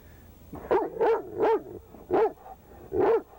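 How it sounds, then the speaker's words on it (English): A state trooper's police dog barks and growls on command, giving five loud, close barks at uneven intervals, each with a rough, growling edge. "the dog will set or stand and bark and growl at the person"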